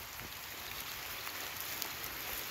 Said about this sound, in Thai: ฝนตกเลยพี่น้อง